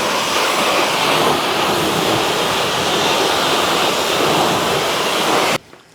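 Water spraying over a Cadillac as it is rinsed during a wash, a loud continuous close hiss and splash that holds steady for several seconds, then cuts off abruptly near the end.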